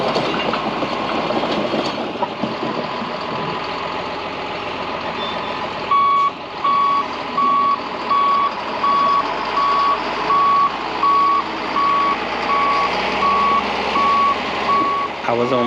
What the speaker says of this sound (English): I run into this tractor.